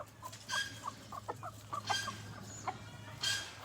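Chickens and chicks cluck and peep close by in a rhythmic string of short calls, some louder bursts standing out over a low steady background hum.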